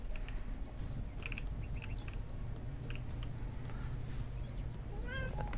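A cat meows in the video game Lumberjack's Dynasty, a few short mewing calls over a steady low ambient hum of the game world.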